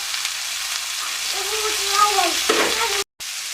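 Half-boiled peas, green beans and carrots sizzle in a frying pan with a steady, moderate hiss. Partway through, a brief stirring scrape is heard, and then a very short gap.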